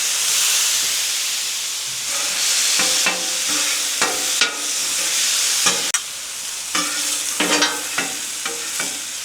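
Hibachi steak sizzles loudly in a hot pan with teriyaki and vegetables, a constant frying hiss broken by repeated clattering stirs and scraping of a utensil against the pan.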